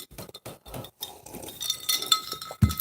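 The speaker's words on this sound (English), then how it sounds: "Here's my jingly glass." A jingly glass is shaken in short bursts, giving bright clinks and tinkles with brief gaps, close and fairly loud, with no talk over it.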